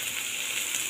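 Carrot, beans, spring onion and capsicum sautéing in a pan make a brief, steady hiss of sizzling, close and even, with no voices.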